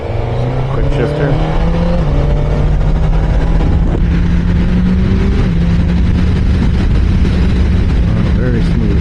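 Engine of a 2025 Suzuki sport motorcycle, Hayabusa, GSX-8R or GSX-S1000GT, pulling hard under throttle with quick-shifter upshifts, its steady rising drone stepping down briefly at each shift, loud and close over heavy wind noise.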